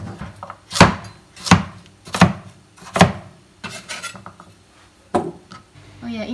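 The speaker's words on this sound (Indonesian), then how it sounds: "Dipotong kecil-kecil biar cepat matang." A knife chops pumpkin into small pieces for a steamed pumpkin layer cake, giving several sharp, evenly spaced chops on a board, close and clear, with a faint scrape near the end.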